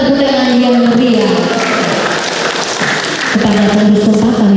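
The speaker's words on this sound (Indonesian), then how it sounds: "Sekali lagi kita berikan tepuk tangan yang meriah" Audience clapping for a newly installed KOMPAK committee, a dense, loud burst of applause with a voice speaking through it.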